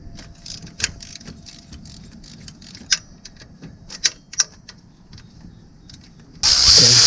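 A wrench works the timing chain tensioner bolt on a 2014 Acadia 3.6L engine, giving irregular metallic clicks and knocks, followed by a sudden loud rushing noise at the end.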